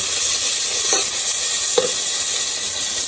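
Food sautés in a pan for a meat curry, a loud, dense, continuous sizzle with a couple of faint scraping stirs.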